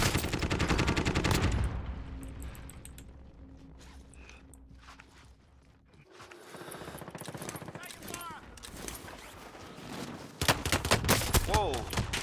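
Bursts of automatic gunfire from the video game Call of Duty crackle loudly at the start, fall to a quieter lull, then return as rapid volleys near the end, with a person talking over it.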